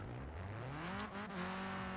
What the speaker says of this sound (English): have a listen to the engine that it's been given